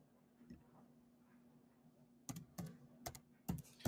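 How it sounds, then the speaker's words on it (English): Crisp computer keyboard keystrokes start after a near-silent stretch, several sharp clicks arriving in an uneven rhythm, close by and moderately loud. "Maybe if I type it in"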